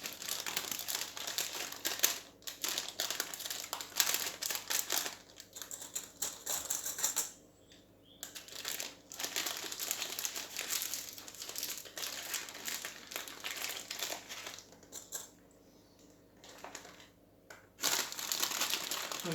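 Baking paper crinkles and crackles up close as it is folded back and forth into a parcel around chicken for en papillote, continuous rustling with brief quieter gaps.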